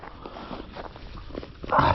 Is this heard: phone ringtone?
no